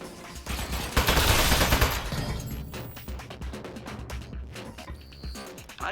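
Turret gunfire in the Portal-universe game Aperture Desk Job, a loud burst of rapid shots that swells around the first seconds and then continues as scattered crashing, clattering impacts.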